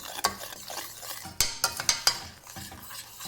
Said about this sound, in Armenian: ես դնում եմ մարմանդ կրակին, այսպես հանգիստ խառնում եմ